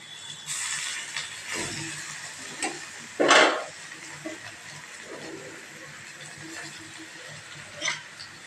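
Grated mango and curry leaves, added to cashews, sizzle and get stirred in a pan. A soft frying hiss runs under scraping stirs, with one louder scrape near the middle.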